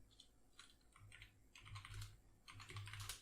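Faint, rapid typing on a computer keyboard, clustered keystroke bursts with brief gaps over a low background hum, close but quiet.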